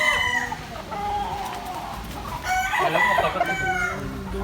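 Boston Black gamefowl roosters crowing in a small backyard coop, several overlapping crows with clucking from nearby birds, loud and close, a louder burst of crowing in the second half.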